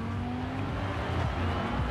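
Lamborghini Huracan engine drone from the in-car view in Forza Horizon 4, a steady mid-loud hum with a held tone and slight shifts in pitch, no voices over it.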